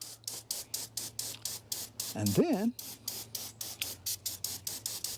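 Short bursts of hissing water spray repeat in a steady rhythm, close and fairly loud, as a hose washes down the OM617 diesel engine of a W126 Mercedes 300SD; someone briefly speaks partway through.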